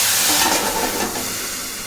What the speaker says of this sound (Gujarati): આ રીતના આપણે વઘાર કંઈક કર્યો છે, તમે જોઈ શકો છો।